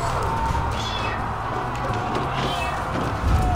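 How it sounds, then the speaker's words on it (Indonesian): A cat meows indoors while game sound plays in the background, its calls rising briefly over a steady low hum during a gaming session. "Itu suara kucing"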